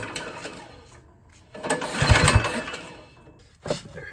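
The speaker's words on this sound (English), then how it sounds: "So I'm gonna pull the pull cord on it a few times and see if any compression builds up." A non-starting snow blower engine is cranked by its pull cord, giving a few ratcheting, whirring pulls with a louder surge in the middle, close up and without talk.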